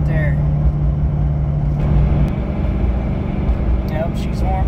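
Chevy Duramax diesel truck engine pulling hard under load while towing, a loud, steady low drone that continues throughout, with an occasional voice over it.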